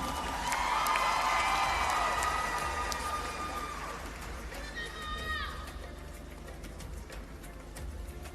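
Pageant crowd applause with loud cheering, high whoops and shouts layered over continuous clapping, strongest at the start and then easing to a steadier background roar.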